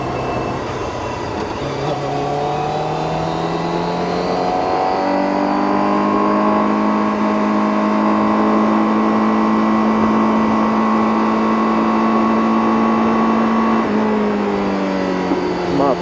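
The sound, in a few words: Honda CBR1000RR-R Fireblade SP motorcycle engine revving in first gear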